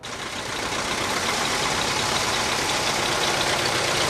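An old military truck engine idles nearby at a historical picnic at Książ Castle, a dense rumbling drone that holds constant throughout with no talking.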